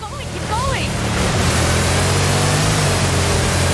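A car splashes and churns through water in Forza Horizon 5 Hot Wheels, a loud steady wash of spray and surf-like noise with a low engine drone underneath.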